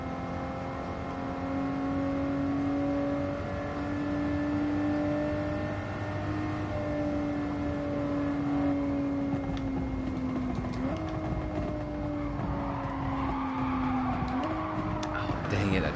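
A race car engine in a video game whines steadily, its pitch stepping up and down through gear changes, with tire skids and squeals as the unstable car slides.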